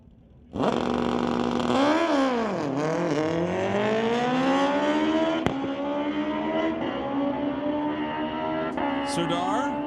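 A 2005 Suzuki Gixxer and a 2012 Kawasaki motorcycle launch in a street-legal drag race, their engines roaring loud and rising through gear changes, with a steady high wail that carries on for several seconds.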